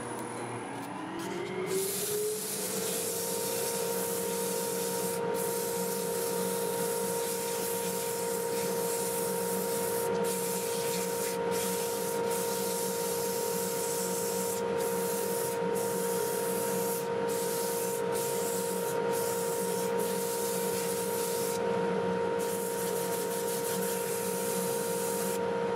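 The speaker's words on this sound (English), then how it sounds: "I need to start my dust collector and go ahead and get this sanded up." Red cedar being sanded on a running wood lathe, with a dust collector droning steadily underneath; a continuous, even abrasive hiss and motor hum hold for the whole stretch with no voices.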